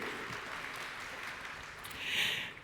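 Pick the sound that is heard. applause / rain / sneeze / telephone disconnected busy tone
applause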